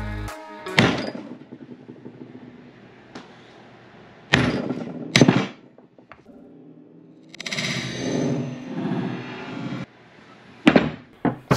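A 5-pound hammer strikes a 1-inch wooden dowel pressed against a rifle barrel extension. Several sharp, close knocks come in uneven clusters, separated by quiet gaps and a longer stretch of rustling handling noise.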